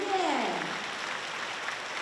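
School audience applauding and cheering for a graduate receiving an award, a brief burst of crowd clapping that fades into a soft wash, with a voice briefly audible over it.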